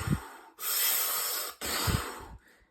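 Intense VO2 max interval breathing exercises imitated by a person: two long, loud, forceful rushes of breath, each preceded by a sharp sniff or snort, close to the mic and with no talk.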